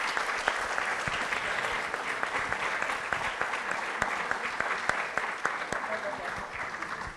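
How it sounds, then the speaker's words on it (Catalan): An audience applauds the writer Maria Barbal in a steady, dense wash of clapping that holds for several seconds at moderate distance, with no speech over it. "Jo per ara demano un aplaudiment"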